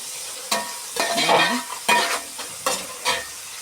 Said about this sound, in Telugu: ఇప్పుడు టమాటా ముక్కలు వేస్తున్నాను. ఇది కూడా వేగించుకోవాలి బాగా.